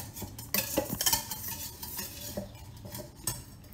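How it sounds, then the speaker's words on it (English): An egg being whisked in a bowl, quick irregular clinks and scrapes of the utensil against the dish, close and moderately loud, with no talking. "Whisk your egg."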